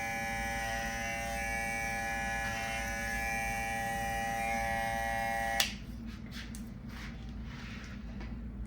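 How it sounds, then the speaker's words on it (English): Electric hair clippers buzz steadily while cutting hair clipper over comb on a man's classic comb over, a loud close whine that stops abruptly partway through, leaving quieter handling noise. "I'm gonna blend it the rest of the way with my clipper over comb"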